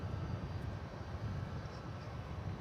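UPS Boeing 757 jet at DFW Airport, a steady, fairly distant engine roar with a broad low rumble that holds throughout, without talk.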